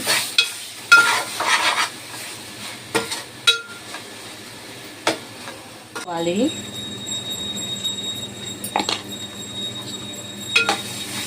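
Gravy being stirred in a pan after coarse salt goes in, with scraping and clinking spoon strokes, soft sizzling, and a voice talking intermittently between them.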